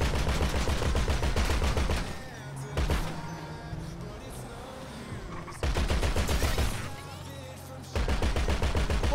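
Bursts of automatic gunfire in Grand Theft Auto V online free roam, loud rapid volleys that start, pause and resume, with quieter street ambience in the gaps.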